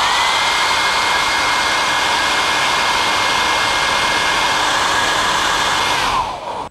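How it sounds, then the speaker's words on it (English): A hair dryer blows hot air loudly and steadily at close range onto a piece of shape memory alloy, a constant whooshing roar that cuts off abruptly near the end. "I blow a blast of hot air from the hairdryer"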